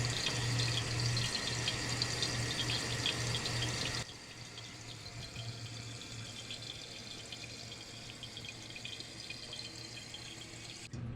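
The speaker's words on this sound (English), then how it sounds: "Now for this first fill, we're watching to see how high the water rises on this overflow pipe." Water rushes into a toilet tank through a new Fluidmaster 400A fill valve, a steady hissing flow with a low hum that softens partway through as the tank fills, close and without talking.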